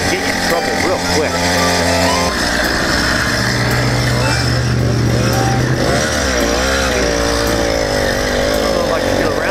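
A 100cc iron-sleeve motorized bicycle engine revs loud and close with a buzzing, high-pitched two-stroke drone that climbs and falls in pitch, running continuously for the whole stretch.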